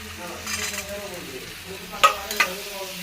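Soaked chickpeas go into a hot frying pan with a low hiss, then a utensil stirs them and knocks the pan in two sharp metallic clinks, close by and quiet overall.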